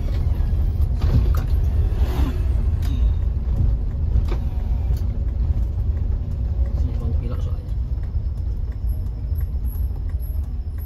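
A 2012 Toyota Avanza drives on a road at night, its engine and road rumble forming a steady low drone while people talk inside the cabin.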